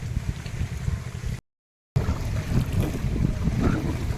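A fishing boat with four people aboard moves along a river in the Sundarbans during stormy, rainy weather, giving a steady low engine rumble with water and wind noise, briefly cut out partway through.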